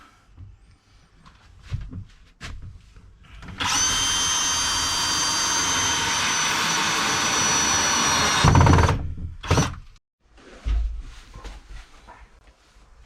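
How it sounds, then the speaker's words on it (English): A power drill drives screws during rust repair work on a Mitsubishi Rosa bus, one long steady whirring run close by, followed by a shorter burst and some clunks. "Here we are, just screwing stuff in."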